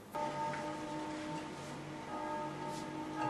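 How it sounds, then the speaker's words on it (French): A town hall bell tolls the tocsin alarm, its steady ringing tone sustained and distant under faint background ambience, with no voices. "Mais c'est le tocsin. Ça c'est la cloche de la mairie"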